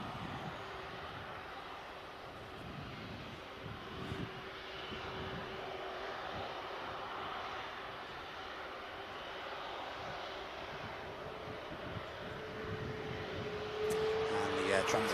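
A NetJets Cessna Citation jet at Manchester Airport gives a steady, broad engine roar that holds fairly even at moderate distance, then swells louder in the final seconds.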